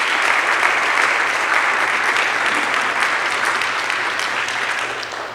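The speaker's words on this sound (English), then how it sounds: "Let's give them a round of applause for taking time to share their memories with us" A crowd applauds panelists and their moderator after an evening panel, sustained even clapping filling the room at a steady level and tapering slightly at the close.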